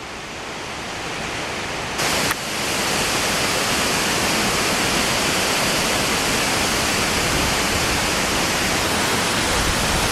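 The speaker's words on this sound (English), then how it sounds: "I'm here at Yogini Waterfalls. I'm going to show you in just a bit." Steady roaring rush of Yogini Waterfalls near Manali, a loud continuous wash of falling water that fills the whole stretch, briefly interrupted by a short bump.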